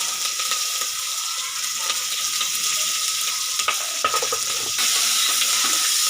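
Sliced onions and green chillies fry in hot oil for egg biryani, a bright, continuous sizzle up close, broken by a few clinks and scrapes of a spoon stirring against the pan, with no voices.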